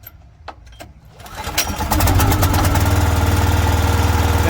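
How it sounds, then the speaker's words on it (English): A Briggs and Stratton 14 horsepower engine on a firewood processor pulls over with a few sputters, then settles into a loud, steady, close running chug. "This is the Briggs 14 horse. It's a pretty good engine."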